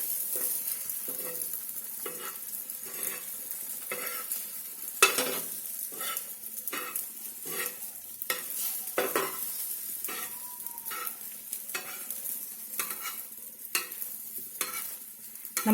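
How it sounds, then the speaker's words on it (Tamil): Beaten eggs fry in a pan while being stirred and turned again and again, with a steady sizzle and repeated scraping and tapping strokes of the spatula, close and without talk. "இப்போ நம்ம கலக்கி வச்சிருக்க முட்டையை ஊற்றிடலாம்."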